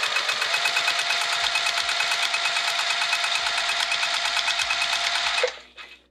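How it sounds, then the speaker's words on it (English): A sewing machine stitches the long edges of a fabric pouch in one continuous, rapid mechanical run, nearby and steady, then slows and stops just before the end. "let's sew this up on the long edges"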